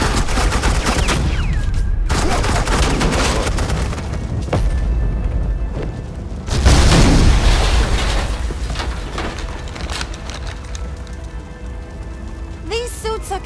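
Suppressing gunfire in Batman: The Enemy Within, with heavy bursts of shots and booming impacts that swell, ease off and surge again over roughly thirteen seconds, mixed with voices talking.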